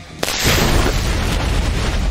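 A close, loud boom from a gunshot or explosion in a video game bursts out sharply and leaves a long, heavy rumbling tail that fills the rest of the moment.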